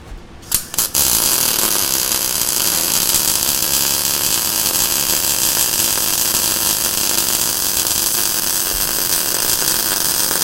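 Continuous loud, harsh buzzing hiss of welding in a team build challenge, close and unbroken for about ten seconds after a few short bursts at the start.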